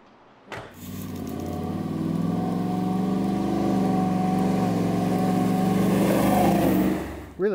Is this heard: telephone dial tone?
no